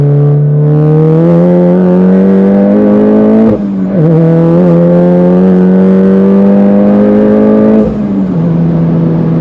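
An Audi RS3 8V stage 2 car accelerating hard, its loud five-cylinder engine howl climbing steadily in pitch, dropping briefly at a gear change, then climbing again before another shift, heard from close inside.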